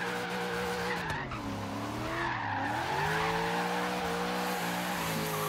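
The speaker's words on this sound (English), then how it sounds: "Keep that drift going there" A Chevy Corvette Z06 in Forza Horizon 3 drifts with sustained loud tire squeal over a wavering, revving engine that rises and falls close up. No voices are heard.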